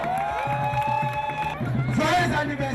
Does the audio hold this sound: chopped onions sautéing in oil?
no